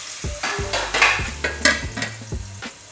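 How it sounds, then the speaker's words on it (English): Onions frying in a pot for chicken curry, a steady close sizzle broken by repeated scraping stirs and light utensil knocks against the pan at an irregular rhythm. "the onions are cooking nicely"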